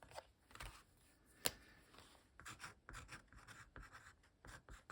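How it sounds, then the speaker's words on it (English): Pen writing by hand on the back of a painted paper sheet, a soft, faint scratching with short strokes and pauses, one sharper tap partway through, no talking. "So let me write here on the back."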